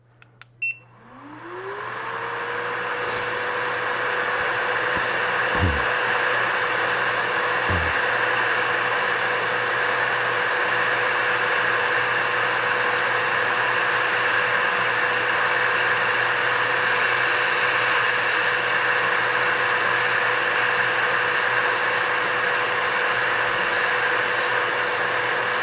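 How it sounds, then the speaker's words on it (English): Hot air station heating the CPU on a Xiaomi Mi Note 10 Lite phone board, a steady blowing hiss that spins up over a couple of seconds and then holds constant and loud, with a few faint clicks. "And now we just heat up the CPU on the board."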